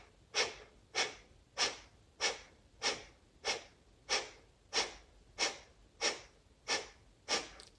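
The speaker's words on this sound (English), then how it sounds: "this next inhale begins the breath. So inhale, and then short breath of fire" Breath of fire breathing exercise: about a dozen short, sharp nasal exhalations in a steady, even rhythm roughly every 0.6 seconds, close and fairly quiet, with nothing else in the background.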